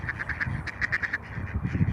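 A black Muscovy duck and a white duck quack in a rapid run of short, nasal calls at moderate distance, over a low background murmur.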